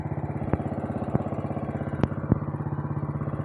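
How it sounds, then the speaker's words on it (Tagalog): A small farm engine drives a drip irrigation fertigation system, chugging in a steady, rapid rhythm close by, with a few sharp clanks over the loud running. "Pero yung makina natin umaandar na,"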